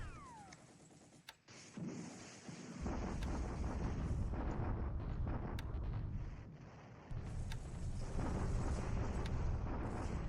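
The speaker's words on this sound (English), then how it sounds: "Bombardment there at Wu Chang." Artillery bombardment at Wu Chang in the War in the Pacific Admiral Edition strategy game: a low, continuous rumbling roar swells in after a couple of seconds, with scattered sharp cracks on top; no one speaks.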